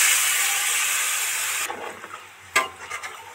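Water goes into a hot pan of fried vegetables and spices for a cucumber curry, raising a loud hiss that fades after about a second and a half, then a few softer sizzles and a sharp stir or clatter.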